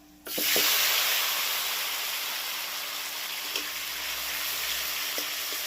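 Two large tomatoes fry in a pan of mutton curry cooked over a wood fire, a steady close sizzle that flares loudly as they hit the hot oil, then settles into an even hiss with a few soft stirring knocks.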